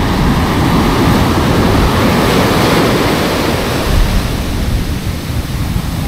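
Waves break and wash up on a New Jersey beach during the fall striped bass run, a loud, continuous roar of surf with wind rumbling across the microphone and a swell in intensity near the end.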